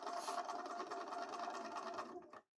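A sewing machine runs steadily for about two seconds, stitching a cosplay costume piece, with close, even mechanical whirring and rapid needle rhythm that stops abruptly at the end, no talking.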